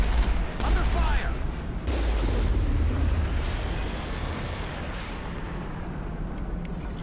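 Gunfire and explosive booms in the video game Mass Effect: a loud, continuous battle wash of rapid shots and heavy low rumbles that eases slightly over seven seconds, with faint voices underneath.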